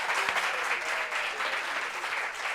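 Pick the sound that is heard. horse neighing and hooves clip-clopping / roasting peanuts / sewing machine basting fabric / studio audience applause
studio audience applause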